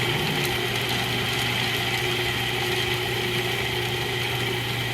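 Food processor whirring steadily as it blends spinach pesto with salt and black pepper before the olive oil goes in; a constant motor drone runs unbroken and fairly loud throughout, with no talking.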